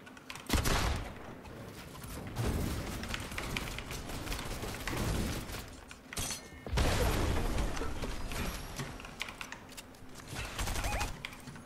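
Shotgun blasts ring out in a ranked online shooter match, loud, sharp reports repeating through a busy stretch of game noise, with thumps and clattering mechanisms between the shots.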